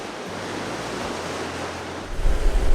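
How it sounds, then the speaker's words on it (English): Yosemite Falls in Yosemite National Park pours in a steady, broadband roar of rushing water, continuous and fairly loud, with wind buffeting the microphone and a low rumble swelling near the end. "Yosemite Falls is one of the most impressive to see"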